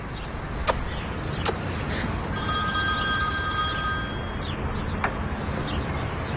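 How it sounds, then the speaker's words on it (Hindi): A telephone rings with a bright electronic bell tone lasting a couple of seconds, set against a quiet background with a few sharp clicks. "साली का फोन आ रहा है।"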